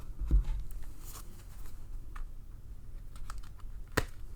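Light Seers Tarot cards being shuffled by hand, soft papery riffles and taps with a few sharper clicks, close and quiet with no voices.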